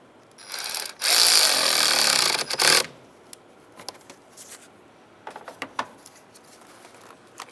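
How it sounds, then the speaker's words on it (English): A wrench tightens the nut on the positive battery terminal of a 2007-2015 Mazda CX-9, giving a loud, rough burst of rapid ratcheting for about two seconds, then scattered faint clicks and taps. "Tighten up that nut."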